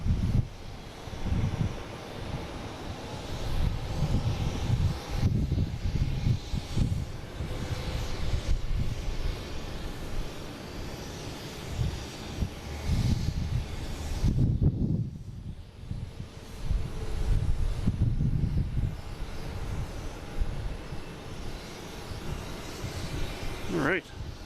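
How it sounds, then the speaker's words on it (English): A JetBlue Airbus A321neo arrives at Boston Logan from Dublin, its jet engines a steady, broad roar that swells and fades over about twenty-five seconds, mixed with gusts of wind buffeting the microphone. "We have a JetBlue coming in from Dublin. An A321neo."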